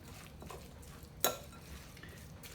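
A spoon stirs a salmon patty mixture with mayonnaise and Dijon mustard in a bowl, faint soft scraping with one sharp clink of utensil against the dish partway through.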